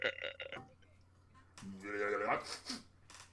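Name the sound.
voice imitating a pizza burp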